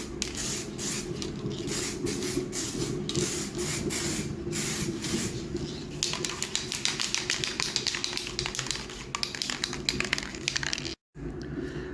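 Aerosol adhesion promoter sprayed onto plastic motorcycle tail unit parts, a continuous close hiss broken by rapid ticking and tapping, with a brief cutoff near the end.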